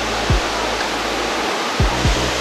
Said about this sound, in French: Et voilà la cascade level 3, elle est très belle.